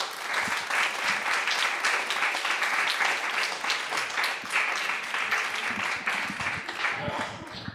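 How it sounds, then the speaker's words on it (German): Steady, warm applause from an audience at a poetry slam greets a performer, dense clapping sustained throughout at close range with no pause. "um einen sehr, sehr warmen Applaus für den wunderbaren Simon Chen."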